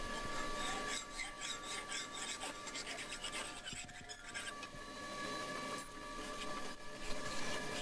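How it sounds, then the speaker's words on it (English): A hand file rasps steadily along the edge of a forged farrier's knife blade, a continuous scraping with stroke-by-stroke variation, close and fairly quiet with no talking. "So I'm now just going to roughly, again, sort of file it up, get towards an edge."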